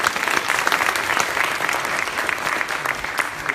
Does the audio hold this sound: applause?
yes